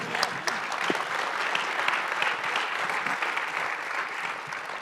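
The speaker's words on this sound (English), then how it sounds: "give all of them a good round of applause for that" An audience at a real estate deal-structuring event gives a round of applause, dense steady clapping filling the whole stretch at moderate volume with no talk.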